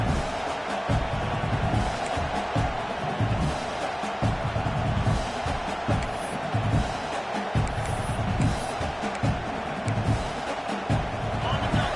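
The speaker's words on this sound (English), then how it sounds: "Decibels rising as the crowd gets behind this defense on third down" Crowd noise in a college football video game swells as the defense lines up on third down, a dense steady roar from the stands carrying under commentary throughout.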